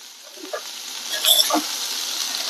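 Cabbage, cut and washed, stirred and fried in a pan, giving a steady soft sizzle with a few brief scraping stir strokes near the middle, close up and with no talk.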